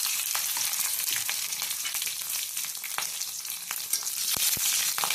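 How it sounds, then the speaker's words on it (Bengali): Cumin seeds, bay leaf and green chili sizzle loudly in hot tempering oil, a steady dense crackle with sharp pops scattered throughout and no voices. "এবার ফোড়নে দিয়ে দেওয়া হচ্ছে সাদা জিরে, তেজপাতা, কাঁচা লঙ্কা"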